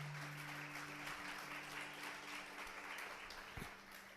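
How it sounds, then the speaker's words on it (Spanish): Steady applause from a church congregation, broad and continuous throughout, with a low sustained tone underneath. "Denle un aplauso al Señor."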